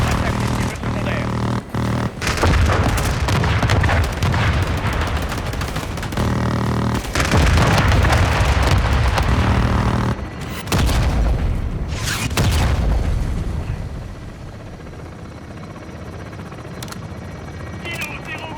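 Air strike explosions and aircraft roar in Call of Duty Modern Warfare 2, a loud sustained rumble with booming blasts and gunfire bursts, fading toward the end, while radio voices talk over the battle.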